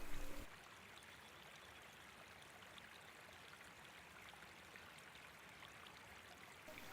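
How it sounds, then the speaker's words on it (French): Water laps and trickles steadily on a river island, a soft continuous wash heard alone and fairly faint throughout. "clapotis d'eau."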